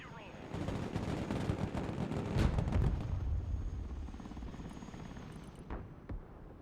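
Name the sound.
helicopter flying in the video game Broken Arrow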